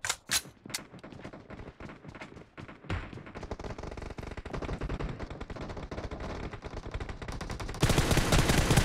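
Rapid automatic gunfire from the mobile battle royale game PUBG Mobile, dense bursts rattling almost continuously, growing louder and harsher toward the end with no talk over it.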